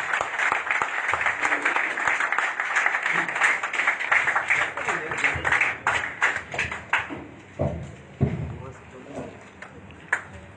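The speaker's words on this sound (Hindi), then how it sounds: "एक बार जोरदार ताली बजा के आतिशि मैम को वेलकम करते हैं" Audience applause welcoming a speaker at a political event in Mumbai, a dense crowd of clapping that runs for about seven seconds before thinning into scattered claps, with a voice talking over it.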